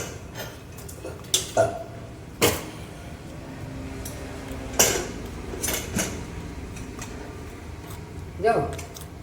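A metal pressure cooker lid is closed on a pot of vegetables, giving several sharp, separate clanks and knocks spaced a second or two apart over a low background.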